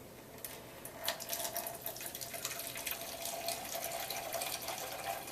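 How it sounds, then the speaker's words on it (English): Water runs from a cracked-open drain line valve into a beaker, a soft, steady splashing trickle with faint spatters, low in level and heard without talk. "I'm going to put it under here, underneath this drain line, and just crack open this valve."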